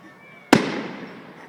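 A single sharp firework blast bursts loudly and close, then fades in a long crackling, rumbling decay.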